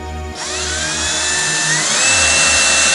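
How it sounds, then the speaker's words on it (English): A power drill whirs up to speed and whines steadily, its pitch shifting slightly as it bites in, loud and close, pre-drilling a hole for fuel injectors. "then I'll pre-drill"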